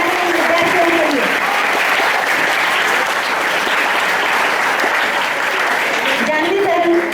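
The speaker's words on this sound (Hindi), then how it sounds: "तालियां बजती रहनी चाहिए हमारे विद्यार्थियों के लिए।" Enthusiastic applause for students at a school Hindi Bhasha Diwas celebration, a full, continuous roar of clapping from a large audience, with brief traces of voices at the start and finish.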